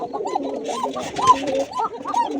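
A female pigeon coos in a loft, a close series of soft, rolling, throaty calls repeating steadily.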